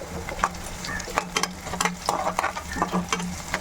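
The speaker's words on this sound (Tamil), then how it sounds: "பூண்டை நல்லா நச்சு எண்ணெயில் போட்டு அப்படியே நல்லா ஃப்ரை பண்ணுறோம்" Crushed garlic frying in oil with softened onions in a pan, a close crackling sizzle with quick irregular pops and spatula clicks across a few seconds.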